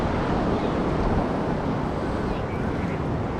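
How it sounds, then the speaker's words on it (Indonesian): Steady wind gusts and a broad surf roar wash over Echo Beach in Canggu, Bali. The open, unbroken outdoor rush stays even and moderately loud throughout, with no voices standing out. "Suasana dari pantai Eco Beach"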